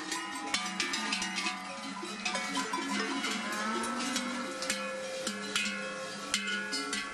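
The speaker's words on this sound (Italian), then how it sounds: "Poi si preparano le vacche per la partenza e inizia il concerto." A herd of dairy cattle wearing cowbells sets off at dawn in the Val Pellice mountains, many bells clanking and ringing in an irregular, overlapping chorus, close and loud, with occasional lowing moos.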